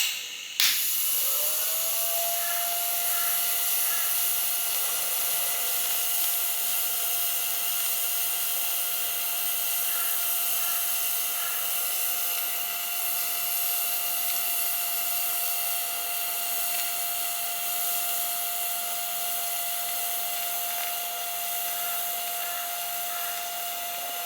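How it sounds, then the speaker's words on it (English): A welder lays heavy filler beads on a motorcycle hardtail frame, giving off a steady, unbroken hiss with a thin sustained whine for over twenty seconds, close and even in level, with no talking. "I basically got the welder on a similar setting."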